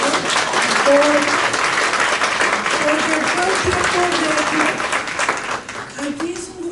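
An audience at a housing resilience forum breaks into loud, sustained applause for the teams, with voices talking over the clapping.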